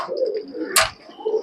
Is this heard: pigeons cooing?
yes